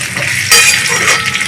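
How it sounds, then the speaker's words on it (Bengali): Kofta balls fry in oil in a wok, a close, loud sizzle that flares suddenly partway through, then settles into a steady hiss. "এই কড়াতে আমি কোপ্তাকারিগুলো ভেজে নিচ্ছি।"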